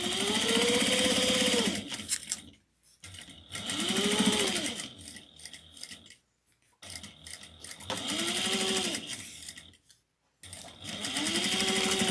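A sewing machine runs in several short bursts, stitching handbag fabric and back stitching, its motor whirring up and winding down between brief pauses.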